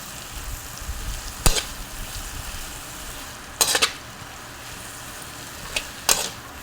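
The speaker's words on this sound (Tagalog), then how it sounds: "hahalo-haloin natin hanggang sa maluto naman ang itlog" Dried anchovies and egg being stir-fried in a pan, a steady low sizzle broken by a few sharp clinks and scrapes of the utensil against the pan.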